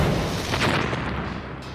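A simulated IED detonates during military desert training, a single deep boom that rolls out and decays into a lingering rumble, loud and close.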